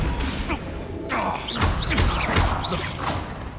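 Flipendo spell effects in Hogwarts Legacy, a dense run of whooshes, thumps and crashing impacts from a chaotic magical battle, loud and continuous.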